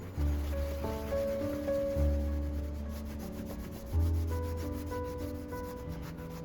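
A van part is scrubbed clean by hand in repeated rubbing strokes, a close, steady scraping and brushing sound with several firmer pushes and faint background noise, no talking.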